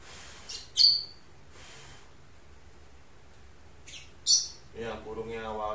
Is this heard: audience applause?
no